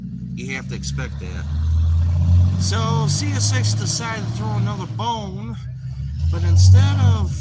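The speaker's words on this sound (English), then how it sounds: "And you'll have to excuse any traffic that is behind me," Road traffic rolls past behind someone speaking outdoors in Cowan, a continuous low rumble that swells and fades as vehicles go by, heard under his steady talk.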